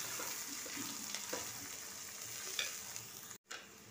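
Cooked rice being stirred and mixed with spices in a pan for hilsa pulao, a quiet, continuous sizzle with soft scraping stirs and a brief clunk near the end.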